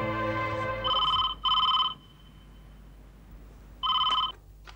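An electronic telephone rings in a quiet room, with two close bursts followed by a pause and then a third, each a bright, warbling trill.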